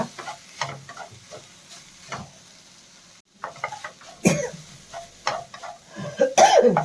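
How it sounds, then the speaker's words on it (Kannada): Tamarind leaves and tomato frying in a pan: quiet scattered stirring scrapes and soft sizzling bursts, with a brief lull midway and a cough heard nearby. "ನೋಡಿ ಇದು ಫ್ರೈ ಆಗ್ ಆಗ್ತಾ ಬಂತು ನೋಡಿ ಅಷ್ಟೇ ಇದು ಫ್ರೈ ಆಗೋಯ್ತು"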